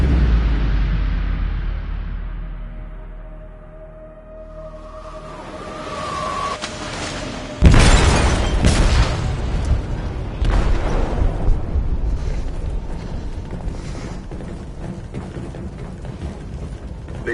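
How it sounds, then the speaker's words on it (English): A deep, booming explosion tears through a ship's hold in the video game Detroit: Become Human, a sudden loud blast followed by rumbling, crackling debris and metallic clatter after a quieter, low ambient lead-in. "They detonated an explosive in the hold."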